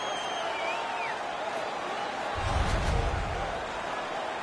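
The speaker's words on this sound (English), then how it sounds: "The home crowd is ecstatic. They're making all kinds of noise." A home crowd at a boxing fight in a large arena, a continuous roar that swells briefly midway, with an announcer speaking over it.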